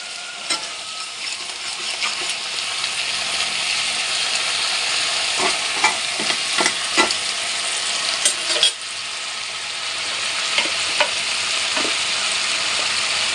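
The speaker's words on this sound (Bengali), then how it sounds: "এই ব্রোকলিগুলো প্রায় ভাজা ভাজা হয়ে এসছে।" Broccoli frying in a pan gives a loud, steady sizzle throughout, broken by occasional clicks and taps of stirring; no one talks.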